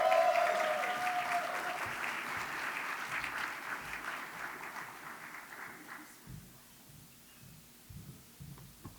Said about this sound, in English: Oh, that applause sounds real good.